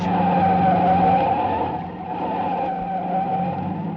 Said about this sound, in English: I whipped my wheel to the right and skidded onto a bridge.